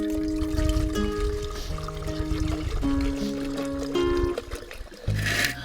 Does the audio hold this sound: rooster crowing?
no